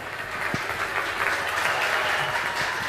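Studio audience applause on an Italian TV broadcast, a sustained, dense wash of many hands clapping, fairly loud and even from start to finish.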